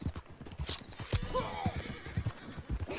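A horse in Red Dead Redemption 2 gallops with rapid, close hoofbeats, and a loud whinny rises over the footfalls midway through the short stretch.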